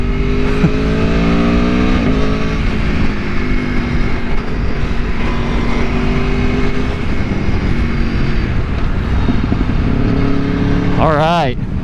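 Aprilia Tuono V4 1100 Factory motorcycle pulling out of a parking lot on a first ride, its V4 engine droning loudly with rising and falling revs and a sharp rev surge near the end, with people talking over it.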